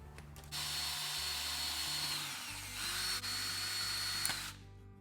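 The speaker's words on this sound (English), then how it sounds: "So let's get drilling." A power drill whirs steadily into wood, motor pitch dipping under load, with a brief pause midway before it spins on and cuts off.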